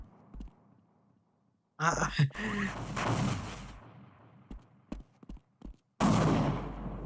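Enemy gunfire in Half-Life comes as a few scattered sharp shots and bursts alongside louder action noise, with someone talking over parts of it.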